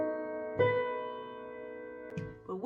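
Piano plays the Moonlight Sonata melody line. A few soft, sustained notes ring and decay quietly, close and alone.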